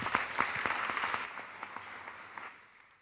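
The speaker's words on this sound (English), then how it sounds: "A big round of applause to the first team." A round of applause for the first team at a live presentation event: steady, moderately loud clapping from a group that thins out and fades toward the end, with no talk over it.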